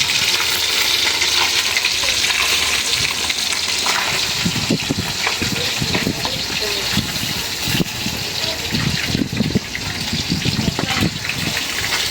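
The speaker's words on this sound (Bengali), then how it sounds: "মাছ অলরেডি ওখানে ভাজতেছে" Fish frying in oil in a pan at a weekly traditional Bengali village-style cooking at an old-age home, a steady loud sizzle with occasional stirring and clattering, faint voices in the background.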